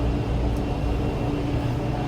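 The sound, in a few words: helicopter flying overhead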